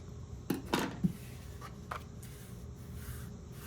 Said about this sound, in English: Just going to take my scissors right to the end of that score line and just do a slight angle cut.